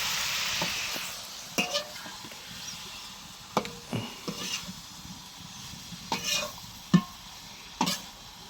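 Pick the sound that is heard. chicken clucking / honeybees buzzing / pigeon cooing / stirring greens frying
stirring greens frying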